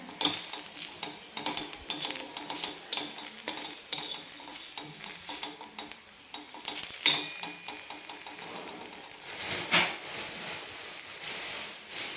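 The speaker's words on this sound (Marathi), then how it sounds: "धने जिरे भाजते वेळेस कारण लगेच करपलं जातं ना" Coriander and cumin seeds roasting in a pan over low gas with oil, a spoon stirring and scraping steadily over a soft sizzle, close and continuous for the whole stretch.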